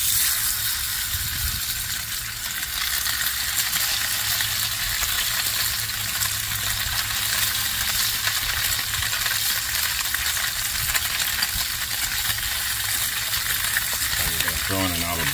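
Heavily seasoned freshwater fish sizzling in a pan of oil, a loud, steady frying hiss that carries on without a break, with a brief clatter near the end.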